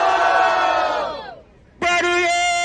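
Crowd at a street rap battle in Itaquer cheering and shouting loudly, a roar that fades out briefly and then bursts back in at full volume.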